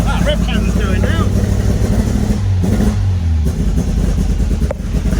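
An MGB GT engine revived after 20 years in storage runs lumpy and uneven, a loud close idle with a wavering low throb and rough revs, while a person talks over it.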